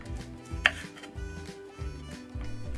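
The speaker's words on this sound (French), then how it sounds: "J'enlève le haut, on coupe la partie supérieure et inférieure." A knife slices the top and bottom off a red bell pepper on a cutting board, giving one sharp chop among faint clicks and a repeating low background pattern.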